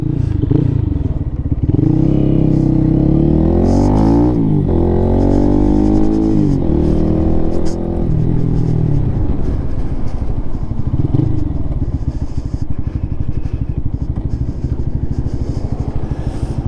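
Lifan KPM 200 motorcycle fitted with a new Venom exhaust, riding along on a cold day: a loud, steady engine drone with rising and falling revs through gear changes, close and continuous, with wind rumble and no talk.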